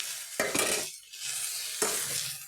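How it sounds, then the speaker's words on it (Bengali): Fried eggplant being stirred into sautéed greens in a pan, two distinct scraping sweeps of a spatula over a soft continuous sizzle, close and fairly quiet. "এখন আমি আগে থেকে ভেজে রাখা বেগুনগুলো মিশিয়ে দিচ্ছি"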